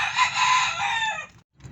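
A pet rooster crows loudly and close by in one long call among backyard chickens, followed by a brief pause and a faint cluck.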